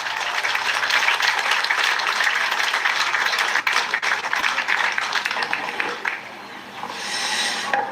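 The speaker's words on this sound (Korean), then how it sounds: "다시 한 번 큰 박수를 보내주시기 바랍니다." Audience applause at a live outdoor gathering, a sustained dense wash of clapping for about six seconds that eases off, then a brief lighter swell near the end.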